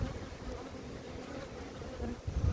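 Honeybees in a beehive colony give off a low, steady droning hum, close and continuous, swelling louder near the end.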